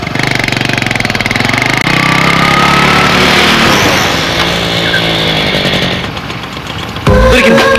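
A motorbike engine revs hard and steadily up close, its rough droning roar holding for several seconds before dipping, then a sharper burst of noise at the end as it rides off in a comedy scene.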